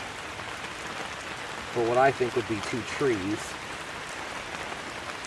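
Steady rain falls outdoors in a soft, even patter. A person talks over it briefly, and the rain continues alone before and after.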